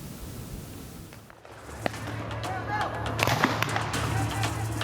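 Sharp bangs and pops of firecrackers and molotov bombs burst out over a noisy outdoor brawl between two groups of youths at a public cemetery, growing denser and louder toward the end.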